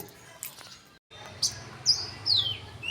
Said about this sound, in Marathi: वर चिमणी बसल्या आणि खूप लय उशीर झाला चिव चिव चिव करायला लागल्या